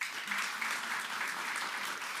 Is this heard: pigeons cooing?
no